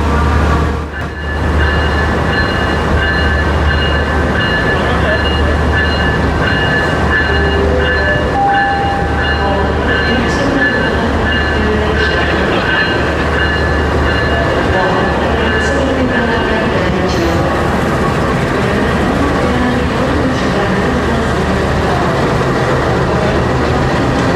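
A train on the Ranggajati service between Jember and beyond rumbles steadily along the tracks, hauled by locomotive CC 2061393, loud and close, with a constant low drone and faint squeals from the wheels.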